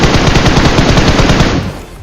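Automatic gunfire rattles in PUBG Mobile during a fight near an apartment building in Yasnaya. A loud, rapid burst of shots runs close and continuous, then trails off abruptly.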